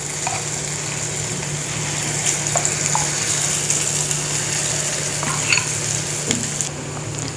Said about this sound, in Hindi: अब हम ऐसे ही दूसरा बैच भी सेक लेंगे।